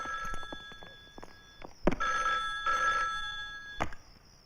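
A telephone rings in a film scene, its bell tones repeating in separate bursts with steady tonal lines, heard alone without talk.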